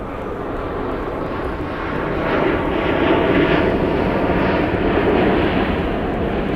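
An airliner touches down and rolls out with spoilers raised and thrust reversers deployed, a loud, sustained jet roar that climbs partway through as reverse thrust builds, with no voices over it.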